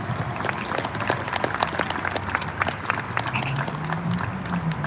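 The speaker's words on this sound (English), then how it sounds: "Would you just please give me a hand and give them a round of applause for all the work that they do?" An outdoor audience at a community water tower lighting claps in a round of applause, dense scattered hand claps sustained at a steady level throughout.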